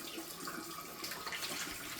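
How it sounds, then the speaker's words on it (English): Hot water running steadily from a tap into a sink while a washing machine drawer is cleaned, a continuous close splashing hiss with no talk. "I'll put the hot water in now because it will just work better"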